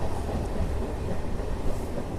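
The Kakinada-Tirupati express train at Tenali Junction gives a steady, loud rolling rumble with a continuous wash of wheel and carriage noise and faint clickety-clack throughout, with no voices.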